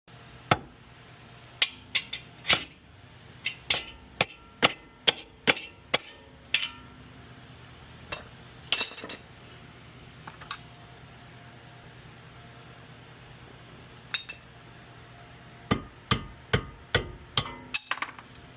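Hammer blows tap out a ball joint nut on a 1977 Porsche 911, sharp metallic strikes in uneven bursts with a pause in the middle, close over a faint fan-like hum in a workshop.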